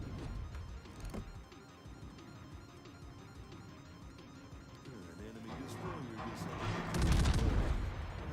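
World of Warships naval gunfire as HE shells leave a warship's guns, with heavy booms swelling near the end over a steady game soundscape while someone talks throughout.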